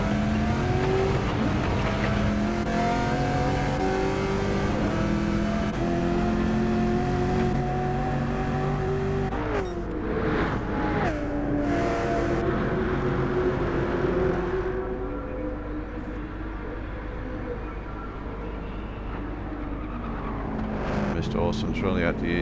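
Several V8 race cars from Gran Turismo 7 roar around the Deep Forest circuit, engines droning continuously with shifting pitch as they accelerate and pass, a commentator talking throughout over the steady engine noise.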